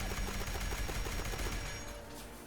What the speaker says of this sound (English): This pistol is the Furious automatic 10mm pistol I showed already, and it performs really well